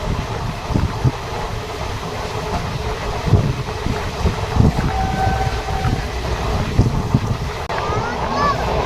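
The Visakhapatnam–Bhubaneswar Intercity Express crosses the Nagavali river, heard from on board as a steady rolling rumble with periodic wheel clacks, gusty wind noise and faint voices.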